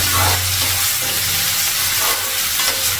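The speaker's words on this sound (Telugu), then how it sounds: "ఇప్పుడు కరివేపాకు సాల్ట్ వేసుకుంటే ఉల్లిపాయ త్వరగా జరుగుతుంది అలా ఒకసారి కలుపుకొని" Onions fry loudly with curry leaves and salt for a Telugu fish curry, a continuous close sizzle with scraping stirring strokes over it.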